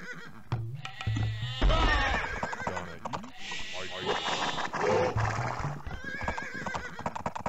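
Horses in an Age of Empires match neigh and whinny among clip-clopping hooves, the game sounds running under continuous commentary from a man.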